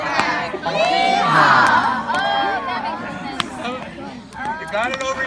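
A crowd of children at a summer camp shouts and cheers together, a lively chorus of overlapping voices at a steady middle distance with excited cries rising above the din.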